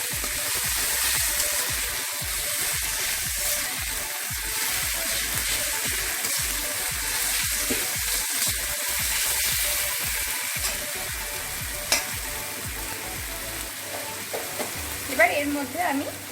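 Ground chili being stirred into a spice paste frying in a pan, a continuous close sizzle with soft scraping of the spoon. The sizzle eases near the end, when a few faint clinks are heard.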